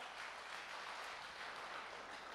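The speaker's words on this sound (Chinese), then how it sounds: "我们谢谢我们的基甸牧区的敬拜团，我们给他们一个掌声好吗？" A church congregation at a revival meeting claps for the worship team, a faint, steady wash of applause from a crowd heard at a distance for the whole short stretch.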